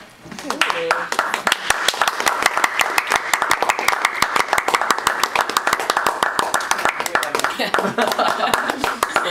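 Steady, rapid clapping from a group goes on for the whole stretch, with voices and a little laughter mixed in underneath.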